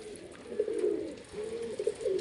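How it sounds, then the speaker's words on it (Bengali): Kaldum pigeons coo in soft, rolling low phrases, two drawn-out calls close by with a short pause between them, and no other sounds. "খুব ভালো জাতের পায়রা কালদুম পায়রা"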